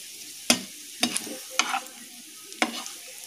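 Onion and vegetables frying for mixed rice made from leftover rice, a soft sizzle broken by four sharp spatula strikes against the pan, close and fairly quiet.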